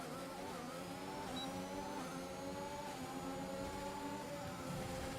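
Formula 1 cars race wheel to wheel in the F1 2021 video game, with a continuous loud engine whine climbing and dropping through gear changes as several cars run close together.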